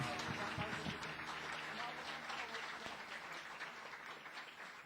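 A church congregation applauds through a worship service, a steady dense wash of clapping that fades slightly toward the end, with a voice faintly speaking over it.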